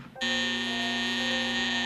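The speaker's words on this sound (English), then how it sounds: "that's when the smoke alarm went off" A household smoke alarm shrieks in a burning home, a loud, steady, piercing electronic tone that starts abruptly and holds without a break.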